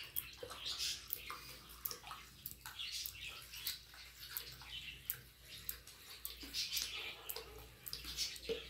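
A glass of vinegar is poured into a jar of vegetables being pickled with bay leaves, making faint, uneven splashing and gurgling that rises and falls for several seconds. Soft handling noises accompany the pour.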